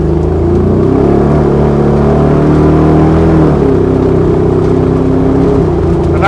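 A Chevy LS3 V8 in a Land Rover Defender 110 revs at half throttle, heard close and loud as a steady deep engine drone whose pitch climbs and shifts partway through.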